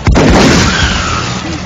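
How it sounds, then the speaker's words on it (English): A long-range shotgun blast in XCOM: Enemy Unknown lands as a sharp, loud boom right at the start, then rolls into a thick, rumbling echo that slowly decays over the following second and a half. "For a long range shotgun blast, that went very well."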